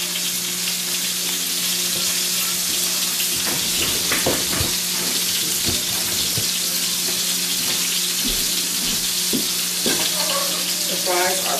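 Homemade French fries frying in hot grease, a steady broadband sizzle running throughout with occasional pops and faint clinks, no voices.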